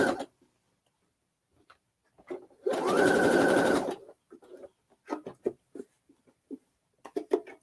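A free-arm sewing machine stitches in one quick run of about a second, its fast even whir standing alone between faint handling noises and quiet movement.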